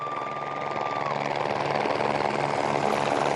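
The Solar Impulse solar-powered aircraft on its first flight drones steadily, a loud continuous propeller hum that holds constant throughout with no talk.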